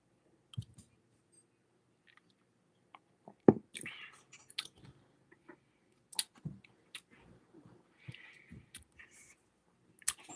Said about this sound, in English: Clara, no chewing on plastic